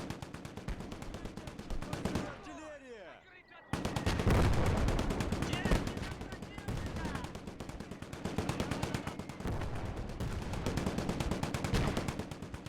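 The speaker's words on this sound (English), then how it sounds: "Another mortar." Mortar fire in the World War II game Gates of Hell: Ostfront. A falling shell whistles in over a brief quiet gap, then a heavy blast is followed by rapid, constant machine gun and rifle fire.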